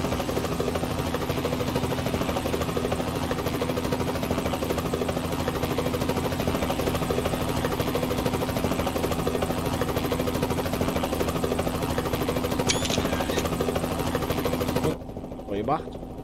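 A steady, droning helicopter rotor hum in a truck-driving video game, with a constant mechanical buzz that runs on without a break, then drops off abruptly near the end.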